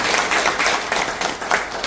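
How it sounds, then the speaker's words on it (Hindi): Loud, dense clapping from a seated audience at an annual general body meeting, filling the whole stretch with energetic, slightly pulsing hand claps and no talk. "एक बार जोरदार तालियां बजाइए।"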